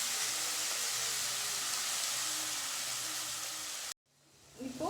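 Tomatoes dropped into hot oil for South Indian sambar give a steady close sizzle that cuts off abruptly, followed by a short quieter stretch with a faint clatter at the end.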